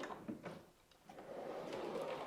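A storage drawer in a workshop's miter saw station slides open or shut a few times. The soft rolling and scraping is quiet and close, with faint room noise and no talk.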